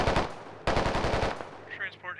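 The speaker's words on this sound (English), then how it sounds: "I think they're shooting up the road." Dense automatic gunfire from squad mates shooting up a road in the military shooter Squad, loud sustained bursts with a short gap and a second long burst, trailing off into scattered fainter shots.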